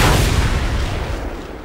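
An explosion in the video game Mad Max sounds as one loud, booming blast at the start. Its rumble fades away over the next second and a half, with no talk over it.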